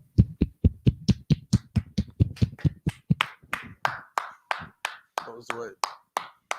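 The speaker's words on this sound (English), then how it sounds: "let's clap it up" A congregation at a Sabbath service in Durham, North Carolina claps together in a steady, even beat, around twenty sharp claps, close and distinct, with no other sound between them.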